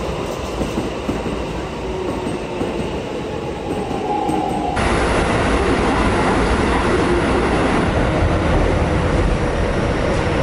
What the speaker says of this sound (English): we're riding the train, and it's pretty relaxing when you ride the train in Japan